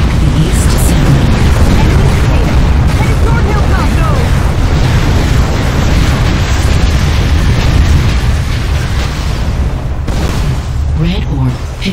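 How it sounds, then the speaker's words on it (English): Missile explosions in Unreal Tournament 3 on the Warfare map Cold Harbor: a loud, continuous roar of blasts and rumbling booms, with scattered sharper pops, over dense battle noise. "missiles detonating"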